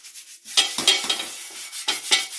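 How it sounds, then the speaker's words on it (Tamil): A cast iron dosa tava is scrubbed and washed, giving a series of short scraping, swishing strokes in bursts, close and moderately loud, with no talk over them. "நல்லா வாஷ் பண்ணிக்கோங்க."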